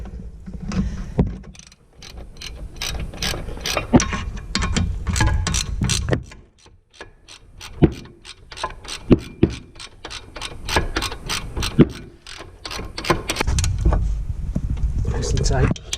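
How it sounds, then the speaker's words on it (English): A big ratchet wrench turns a socket on a car brake during a brake disc and pad change, giving rapid sharp clicking ticks in uneven runs, close up, with a voice speaking over parts of it. "Big ratchet."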